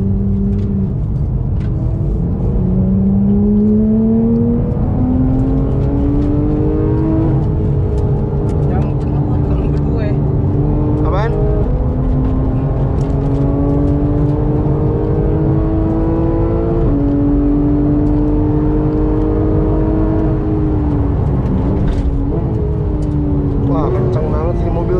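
A Porsche GT3 sports car accelerates hard on Sentul Circuit, its engine note climbing through repeated rising sweeps between gear changes, loud and close for the whole stretch while people talk over it.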